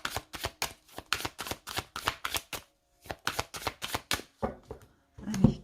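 Tarot cards are shuffled and cut by hand in quick, crisp bursts of riffling and slapping, close and fairly loud, broken by short pauses, ending with a heavier knock of the deck.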